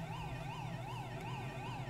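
Police car siren in the video game GTA V wails in a rapid, even up-and-down cycle, steady and continuous over a low engine hum, with no talk.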